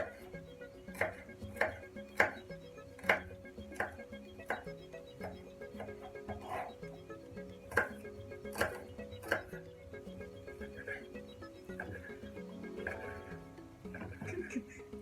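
A knife chops onions and garlic for a tripe stir-fry on a cutting board, giving a steady series of crisp, fairly quiet taps at an uneven rhythm, with faint clinks near the end.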